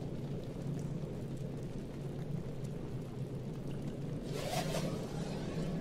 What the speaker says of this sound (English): Rain. Make it rain.